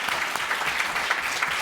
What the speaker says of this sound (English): please give us a round of applause to our amazing panelists here